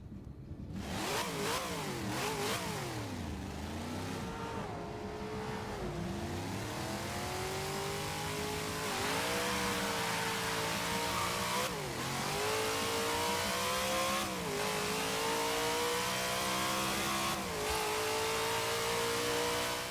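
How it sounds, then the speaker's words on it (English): A Dodge Charger in Forza Horizon 3 revs hard and accelerates through repeated gear changes, engine pitch climbing and dropping in a steady cycle of sweeps, loud and continuous for the whole stretch with no talking. "I'll let you guys listen to the engine and stuff like that, and I'll just do a quick little drag right here."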